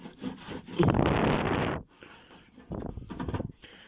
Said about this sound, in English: I'm gonna just rub that on there like that